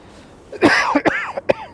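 A man coughs several times in a quick, harsh burst, close and loud, with a throat-clearing quality, alone with no talk.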